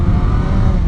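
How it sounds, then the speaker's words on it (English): A Yamaha XJ 600 motorcycle on beach sand with its throttle opened, a loud, close, steady engine roar filling a brief moment. "Let's hit the throttle on the sand."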